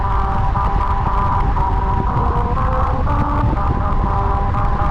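Car tyres rolling over musical road grooves that play a wobbly, out-of-tune Jingle Bells melody, a steady droning tune over continuous low road rumble and wind noise for the whole stretch.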